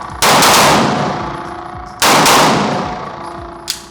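A Sig P320 pistol fires two sharp, loud shots about two seconds apart, each trailing off into a long ringing decay, followed by a faint metallic click near the end.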